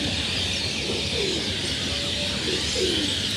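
Pigeons from one breeding line cooing softly in a loft, a few low, rolling coos drifting over a steady background hiss.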